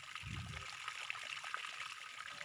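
Water trickles softly into a jar of infused water with mustard greens, cucumber and lime, a faint, even stream and gurgle heard close up with no talk.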